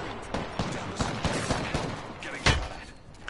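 Bursts of gunfire in a multiplayer shooter video game, repeated shots and rattling volleys over a dense, steady wash of game noise, with one heavier blast near the end.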